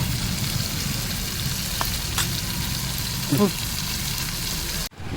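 Food frying in a pan, a steady hiss of sizzling under faint background voices, with a few light clinks partway through and an abrupt cut near the end.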